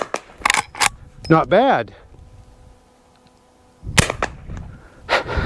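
Burgess Light Carbine lever-action rifle, with two sharp shots early on, then quick metallic lever cycling and a later cluster of clicks and reports, with a brief spoken remark in between.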